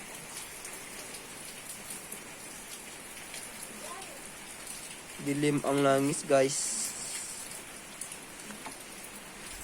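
Steady rain falls during a storm, a constant close patter throughout, with someone speaking briefly over it partway through.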